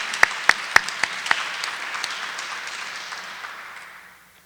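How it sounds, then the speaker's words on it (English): Audience applause for conference organizing staff at a healthcare systems event, opening with a few sharp individual claps that swell into steady moderate clapping and then fade away over several seconds. "So a round of applause to the staff who created this."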